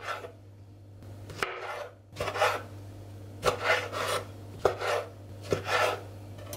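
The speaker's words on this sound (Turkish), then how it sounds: "Ben bir domatesi 6'ya bölüyorum" Knife cutting tomatoes into six pieces for a chicken drumstick casserole, a series of close, soft slicing and board taps in irregular bursts, with a steady low hum underneath.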